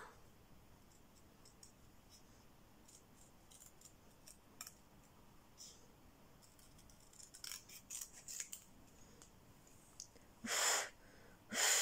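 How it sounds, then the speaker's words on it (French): Scissors cutting out a paper card for an autumn-themed craft: soft scattered snips, then several sharp, louder cuts close by near the end. "Donc je vais découper, contourner."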